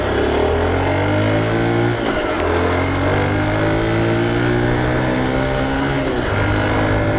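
A car approaches and passes close by during a ride on a 1981 Honda ST50 Dax, a small 4-speed 50cc bike, its engine drone loud and steady with a rising and falling pass, no talk.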